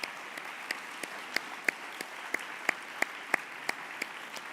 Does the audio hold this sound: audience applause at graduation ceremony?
yes